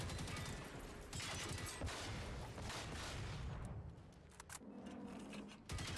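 Dense bursts of rapid gunfire in the open-world shooter Generation Zero, near and loud, with continuous rattling volleys and a few heavier booms, thinning out briefly before resuming.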